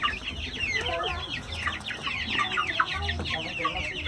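Chickens, including fattening hens and growing chicks, cluck and chatter busily nearby, many birds overlapping in a continuous farmyard din.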